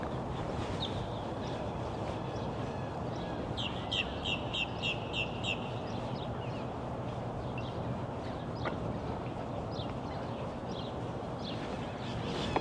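Spring birds near a marina chirp in short repeated bursts over a steady background rumble, moderately distant, with no talking.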